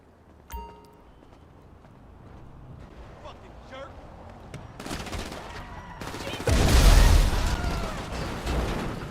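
Gunfire in GTA 5 Online, a loud burst of shots near the end with scattered pops and game noise before it, while a voice talks throughout.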